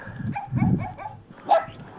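A few dogs bark in short, scattered bursts at moderate distance, with a brief sharper yelp near the end.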